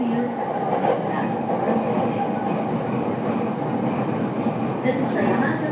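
Steady rumble of a Yamanote Line E231 series commuter train in motion in Tokyo, loud and continuous, with faint clatter and an onboard announcement murmuring under the noise.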